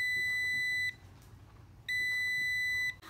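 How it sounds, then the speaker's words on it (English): A Magical Butter Machine sounds its end-of-cycle alert after finishing a batch of oil: two loud, steady electronic beeps about a second long each, separated by a short gap of quiet room tone. "The machine beeped to let me know it was done."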